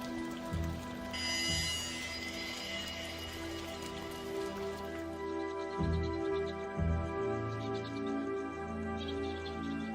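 Rain falls on a flying fox camp in a steady, soft patter under a sustained tonal backdrop, with a few faint bird chirps scattered through.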